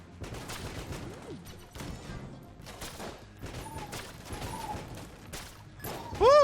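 Scatter-shot gun fire in the video game Enter the Gungeon, rapid bursts of sharp shots with mechanical clicks and a few whooshing effects, ending in a loud rising chime.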